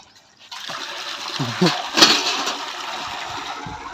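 Water gushing and splashing as the supply arrives for washing clothes at home, a loud rushing flow with brief splattering bursts and faint voice-like sounds.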